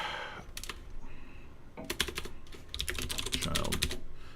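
Fast, uneven clatter of typing on an old computer keyboard, close up, with bursts of keystrokes broken by short pauses.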